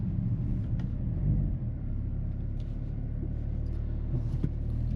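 A 2025 AMG GLC 63 S E Performance hybrid coupe's engine rumbles steadily from inside the cabin while driving, with a brief dip in the drone around a gear shift and a low, even hum carrying on afterward.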